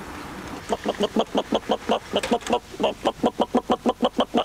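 A rapid series of honking, clucking calls from geese and a turkey repeats in a steady rhythm, close and fairly loud.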